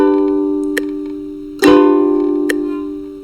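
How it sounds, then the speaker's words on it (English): A ukulele is strummed twice, the second strum louder, and the chords ring and sustain into a rest with light plucks. "strum 2 times in the 4 beats and then rest for 4 beats"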